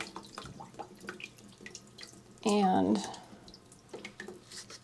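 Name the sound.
water dripping while watering houseplants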